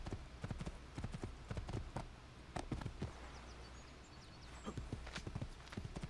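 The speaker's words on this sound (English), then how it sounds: "Ooh, a horse." Horse hooves in Assassin's Creed II clatter in a quick, rhythmic clip-clop gallop, moderately close, with faint ambient game sound behind them.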